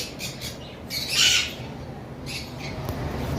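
A cockatiel from a breeding pair gives a loud, harsh squawk near the middle, with fainter bird calls before and after over steady background noise.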